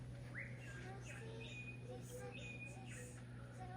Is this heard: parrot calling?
yes